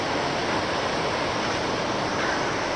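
Heavy rain pours steadily at an outdoor work site where the job has stopped for the weather, a dense, constant broadband wash with no breaks and no talking.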